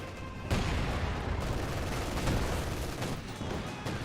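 Heavy artillery-style barrage from 150mm mortar fire in the video game Company of Heroes 2: dense, sustained rumbling explosions and crackling gunfire, loud and continuous with several sharper impacts, no talk over it.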